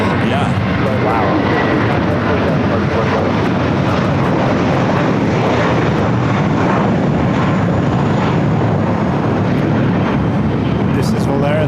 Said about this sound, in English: This is Valera 1715 going to Guadalajara on a 10-year-old Airbus A321.